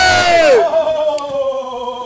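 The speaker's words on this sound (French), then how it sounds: "La foule qui se réveille." A crowd at a wrestling event lets out a loud swelling yell that quickly fades into a sustained ringing tone and faint murmur.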